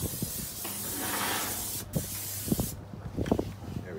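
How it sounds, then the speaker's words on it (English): A can of Pam cooking spray hisses in long, steady bursts onto the grate of a Yoder 1500 smoker during burn-in, close to the can, with a few clanks of metal toward the end. "we're gonna take our can of Pam. We're gonna spray the top side of this here."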